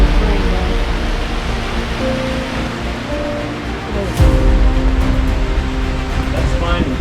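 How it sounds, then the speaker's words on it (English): Heavy rain pours down during a severe storm with strong winds, a dense, steady roar of water from a gutter close by, with a sharp surge partway through. "This is like one of the heaviest rains."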